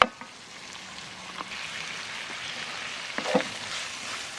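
Rabbit pieces sizzle in coconut curry in a hot pot, a soft continuous frying hiss with occasional small clinks and stirring noises as more pieces go in.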